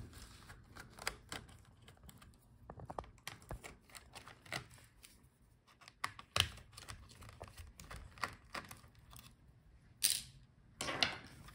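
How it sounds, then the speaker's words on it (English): Small screws come out of a Lenovo Ideapad Flex 5 laptop motherboard as faint, scattered tool clicks and light taps, with a couple of sharper metallic ticks near the end, all quiet and close. "now let's take out all the screws from the motherboard"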